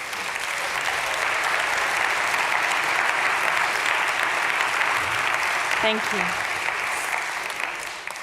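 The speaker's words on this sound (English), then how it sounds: "I mean, we're applauding Ecosia." Conference audience applause at a steward-ownership gathering, a dense, sustained wash of clapping that fills the room throughout, with a brief spoken thanks near the end.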